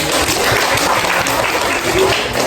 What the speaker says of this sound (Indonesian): Silakan berikan tepuk tangan.